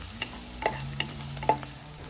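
Chopped garlic fries in hot oil in a pot, a soft steady sizzle broken by a few close scrapes and taps of a spoon stirring against the pan.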